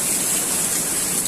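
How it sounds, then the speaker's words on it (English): Heavy rain pours down on a yard that is flooding, making a dense, steady hiss that is loud and close throughout, with no voices. "it's raining really hard"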